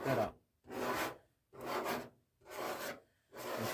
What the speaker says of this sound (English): In less than 10 minutes, I'm already scraping off paint.